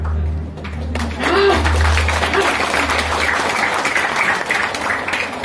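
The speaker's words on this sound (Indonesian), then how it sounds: "bisa tepuk tangan Bapak Ibu?" An audience of men and women at a seminar applauds on request, a burst of many hands clapping that swells quickly and holds steady, with a low hum running beneath.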